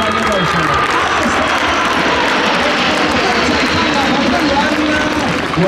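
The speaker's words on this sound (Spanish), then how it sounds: "Vuelven los siete aviones ya reunidos para dibujar una bonita formación en estos cielos de Lérida" Patrulla Águila jets roar loudly overhead at an air show in Lleida, a dense continuous engine rumble filling the whole stretch, with crowd noise and commentary mixed beneath.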